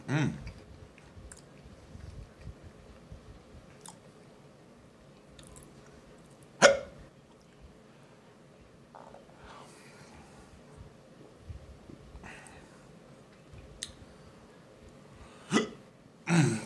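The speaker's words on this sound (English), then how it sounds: "Got the hiccups, you know it's good." Occasional sharp hiccups from a person eating scorpion pepper beef jerky, a few isolated bursts spread over quiet chewing and faint room noise, close and moderately loud against a low background.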